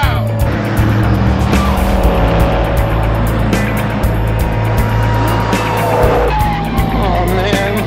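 Loud car chase from the Starsky and Hutch film: an engine roaring at speed with squealing, skidding tires throughout, layered over a steady low rumble.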